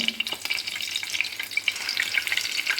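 Egg buns frying in a pan, turned so both sides cook; a close, steady crackling sizzle with small pops runs throughout, with no voices.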